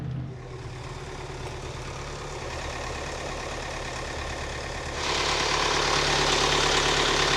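A loud engine of a boat passing close by on the water, a steady droning rumble that swells noticeably louder partway through and continues without speech.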